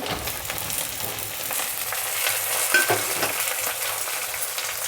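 Taro roots frying in a pan as chopped tomatoes go in, giving a dense, continuous sizzle with a brief louder burst near the middle, close and steady with no talking.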